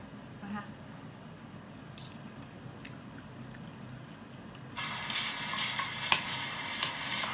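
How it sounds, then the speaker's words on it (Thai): Curry paste is stir-fried in a pan, starting as a low muffled background and then turning into a louder, bright sizzle with scraping for the last few seconds. "ผัดพริกแกงนะคะ ผัดพริกแกงให้เราพร้อมจ้า"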